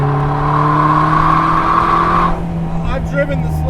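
A Vanderhall Laguna, a front-wheel-drive open car, roars loudly at high speed with a steady, droning engine and rushing wind throughout, someone talking over the din.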